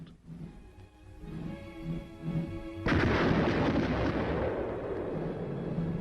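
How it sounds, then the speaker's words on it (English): Artillery firing during a Republic of Korea Army combat training exercise attacking a hill, with tank support: a low rumbling buildup, then a loud blast at mid-clip followed by sustained heavy roaring and rumble, no talking. "Fighting with artillery and tank support, actually attacking a hill position."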